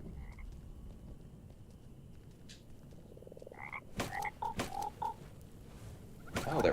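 Toads croaking in the video game Mortal Shell, several short throaty croaks in a quick irregular run midway, over a quiet ambient bed with a louder rustle at the end.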